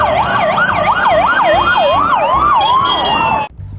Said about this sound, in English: Wow, this is ambulance.